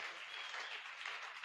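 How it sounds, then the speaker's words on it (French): A church congregation at a worship service breaks into steady, dense applause and cheering, a continuous broad wash of clapping that holds at an even level without breaks. "Est-ce que quelqu'un peut acclamer pour la gloire de Dieu?"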